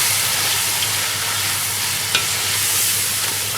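Chicken and zucchini curry with coriander and cumin powder stirred in a hot pan, giving a loud, continuous close sizzle with faint scraping of the stirring and no talk.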